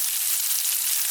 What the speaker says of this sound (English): so we just frying up a little